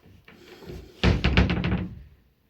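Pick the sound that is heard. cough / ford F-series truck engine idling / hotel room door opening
hotel room door opening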